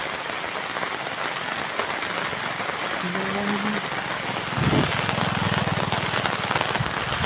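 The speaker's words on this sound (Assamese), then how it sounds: "পূৰা বৰষুণ দি আছে" Heavy rain pours down outdoors in Assam, a dense, steady hiss of drops throughout, with a brief tone and a louder rustle partway through.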